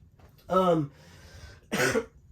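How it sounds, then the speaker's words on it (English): Two separate coughs, close and fairly loud, with a short quiet gap between them. "So sorry about me coughing."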